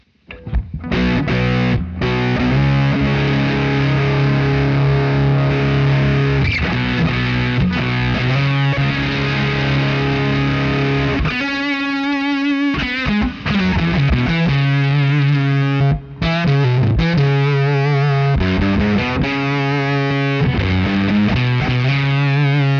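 Electric guitar played through a Fuzz Face fuzz pedal, thick and saturated, with sustained chords and a few short breaks between phrases, loud and up close.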